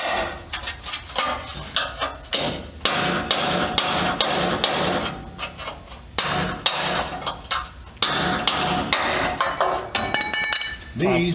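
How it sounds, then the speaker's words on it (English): Hammer blows on a chisel working a bracket loose from a Chevy S-10 frame with ground-out rivets, a fast run of sharp, loud metallic strikes with brief pauses, close up, with no talking. "so I take my chisel. Kind of work it a little bit."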